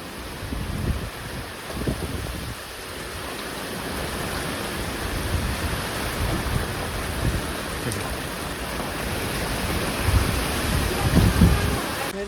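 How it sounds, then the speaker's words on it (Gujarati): A village thunderstorm in Botad with heavy rain and strong wind, a dense continuous roar of rain and gusts with low rumbling swells of thunder, loud and constant throughout. "અસલ વાવાઝોડું છે મિત્રો આ"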